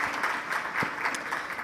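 Audience applause at a summit, a steady wash of many hands clapping at moderate level, continuous and fairly even through the short stretch without voices standing out.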